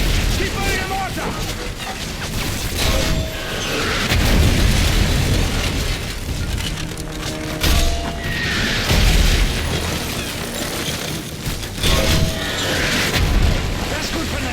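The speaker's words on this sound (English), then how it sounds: "If it moves, put a mortar shell on it. Keep firing the mortar!" Heavy booming mortar shell blasts in the Modern Warfare 3 video game roll out one after another over continuous battle noise, with voices shouting over the din.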